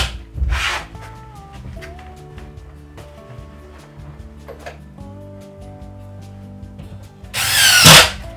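A power drill drives old screws back into a ceiling during a ceiling leveling job, giving two short loud bursts at the start and end with quieter handling noise between.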